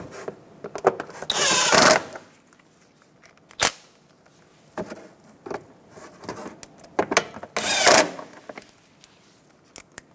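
A power tool drives bolts into the windshield washer reservoir of a 2014-2019 Toyota Highlander. It makes two short whirring bursts, with scattered clicks and handling noises between them.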